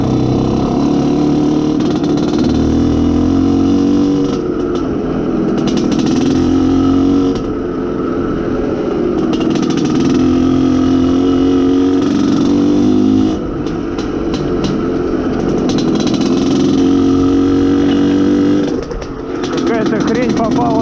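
An Izh Planeta Sport motorcycle engine runs during break-in while riding, loud and close, with its steady tone rising and falling in repeated waves as the throttle changes, and with wind rush over it.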